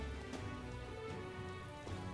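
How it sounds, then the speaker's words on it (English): Steady rainfall in the fantasy role-playing game Metaphor: ReFantazio, a dense, even patter of drops hissing on surfaces over a low ambient musical drone, moderately quiet and continuous. "Shit, it's raining."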